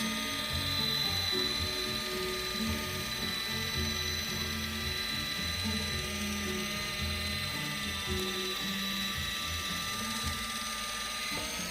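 A battery-operated can opener's small motor whirs and grinds continuously, close and moderately loud, with no talking.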